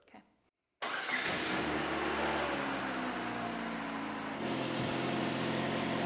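A homemade snow blower engine fires up after a short quiet moment, catching abruptly and settling into a loud, steady running roar with a slight change in tone near the end.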